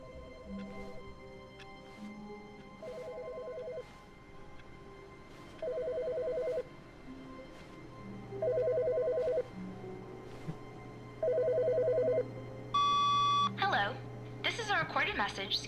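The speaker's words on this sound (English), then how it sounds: "There's a phone ringing now." A phone rings in the video game The Stanley Parable: five evenly spaced electronic ring bursts, each about a second long and growing louder, under a low hum, followed by a rapid cluster of beeping tones.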